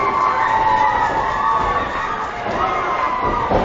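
A West Virginia wrestling crowd cheers and shouts steadily throughout, a loud, dense wall of voices with a few shrill yells rising above it.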